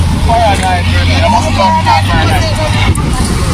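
Vehicles idle and creep along in a road traffic jam, with a steady low engine drone and the babble of nearby voices on top.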